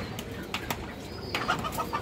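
A large pair of kaldom pigeons, male and female, coo softly and faintly among scattered clicks and light background noise.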